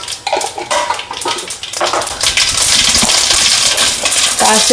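Mustard seeds sizzle and crackle in one to two spoons of hot oil in a pan, a dense, loud, continuous spitting hiss with scattered pops and some clinking of utensils.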